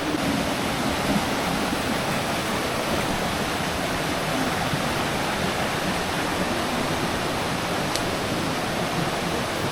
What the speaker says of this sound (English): It is a river. It is flooded, but we will try to cross the river.